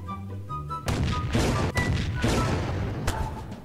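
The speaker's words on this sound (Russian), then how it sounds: "Как-то странно взорвалось" An explosion goes off in Garry's Mod, a sudden heavy boom followed by rumbling crackle and a few more sharp blasts through the din, loud and close.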